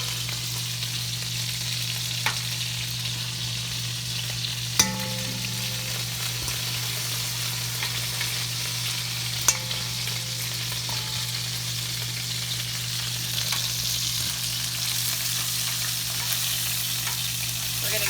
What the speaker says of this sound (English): Start melting that butter up